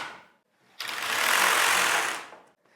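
The carriage of a Singer Solo hand knitting machine is pushed across the needle bed, giving a near, steady rattling whoosh that swells and fades over about a second and a half, with no talk.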